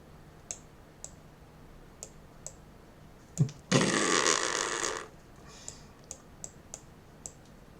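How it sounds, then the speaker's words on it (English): A raspy, farting-like noise sounds while a tesseract surface net is drawn on a computer, a loud burst of just over a second set among faint, evenly spaced clicks in a quiet room. "that farting noise was because this drawing is not very good"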